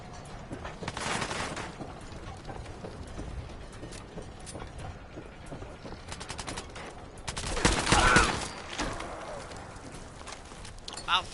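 Gunfire in the video game Fallout 4, with a few loud bursts of shots standing out, the biggest around the middle of the stretch, over a steady din of in-game noise.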